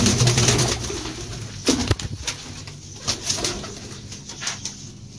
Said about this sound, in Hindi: काफ़ी बड़ा कबूतर है